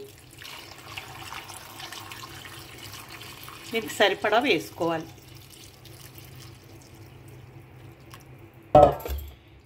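Boiled, cooled drinking water pours onto Indian gooseberries soaked with fenugreek for pickle, a soft watery trickle under steady talk that ends in a brief louder splash.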